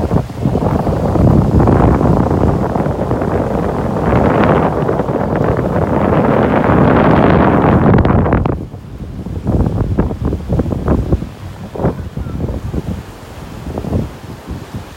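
Strong wind buffeting a microphone on a sandbar at a beach in North Naples, Florida, a loud continuous roar and rush that drops suddenly, then returns in uneven gusts and flaps.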